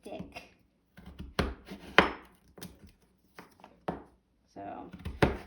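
A knife chops coarse, thick vegetables on a cutting board in uneven, heavy thunks, close by, with a person talking in between the cuts.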